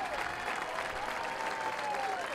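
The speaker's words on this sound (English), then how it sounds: "Some of the Tar Heels applauding her on as well." A crowd at a women's college soccer match between Old Dominion and North Carolina applauds from a distance, a faint, steady wash of clapping with an announcer speaking over it.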